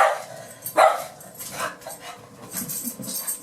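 A dog barks several times in short, sharp bursts at close range, with a louder yelp near the start and softer barks trailing off.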